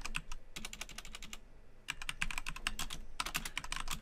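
Someone types a SQL SELECT statement on a computer keyboard: quick, close, crisp clicks in two bursts around a short pause, with no talking.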